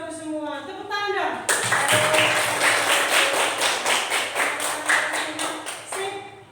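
Indonesian classroom students clap their hands in a burst of quick, close, overlapping claps lasting several seconds, with a teacher's voice briefly before and after.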